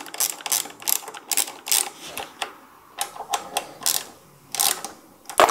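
A ratchet tightens the axle clamp bolts on a Surron Ultra Bee electric dirt bike, with rapid clicking bursts that repeat in quick, uneven strokes close by.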